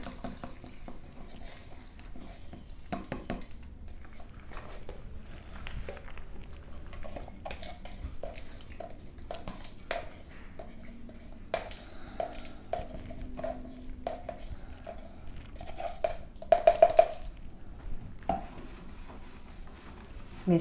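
Stirring and mixing a glycerin soap mixture in a container, steady soft scraping and sloshing with irregular taps and clinks against the sides, close and fairly quiet.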